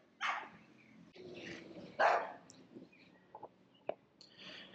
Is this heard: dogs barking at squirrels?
yes